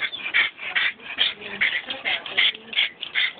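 Nine-week-old puppies whimper and yip in a continuous chorus of high, thin cries, close and fairly loud, with brief pauses between overlapping bursts.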